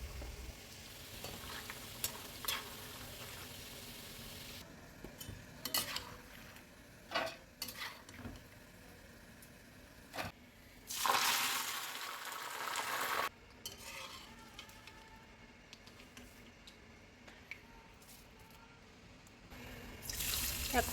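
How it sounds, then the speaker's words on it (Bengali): Peanuts and curry leaves frying in hot oil in a wok, with a low, uneven sizzle, intermittent stirring clatter and a loud burst of hissing midway, then quieter frying with occasional scrapes. "এবার কড়াই গরম করে তেল গরম করে চিনে বাদাম আর কারি পাতাগুলো ভেজে নেব।"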